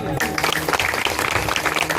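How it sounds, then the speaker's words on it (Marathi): An audience at a Hari kirtan gathering claps loudly together, a dense burst of applause with voices mixed in. "एकदा सर्वांसाठी जोरात टाळ्या वाजवा"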